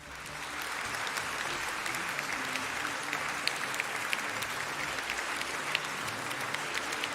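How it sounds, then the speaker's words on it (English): Steady, sustained audience applause fills a debate studio after a playoff round, a dense wash of many hands clapping at an even level with no speech over it. "Once again, a round of applause for Demilade."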